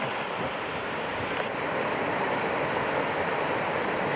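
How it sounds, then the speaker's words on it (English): Waterfall at a place called Bob's Falls, a steady broadband roar of falling water that fills the whole clip at constant loudness, close by and with no voices over it. "Over to the waterfall."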